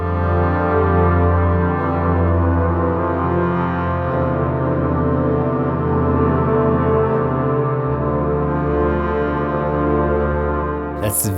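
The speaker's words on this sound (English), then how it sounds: "I went for brass muted." A muted brass multi-sample, a real recording played in Studio One Pro, holds sustained layered chords with steady harmonics, loud and even for about eleven seconds before cutting off.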